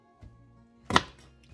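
A kitchen knife cuts through food on a board while Ghanaian ampesie is prepared, giving one faint tap followed by a single sharp, close chop, then near quiet.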